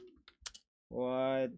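A few quick clicks of typing on a computer keyboard sound close by, followed after a short pause by a single spoken word.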